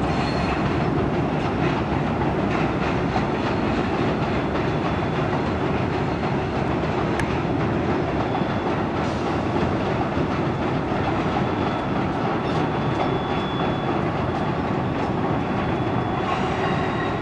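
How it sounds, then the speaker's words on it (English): The Agawa Canyon tour train rumbles past steadily and loudly, with continuous rolling wheel noise and faint clatter, and no voices. "comes the tour train now"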